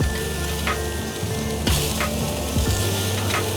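Bone-in pork chops sizzle steadily on a Kamado Joe grill as they are flipped, a constant close hiss of frying fat with a few soft taps from the turning.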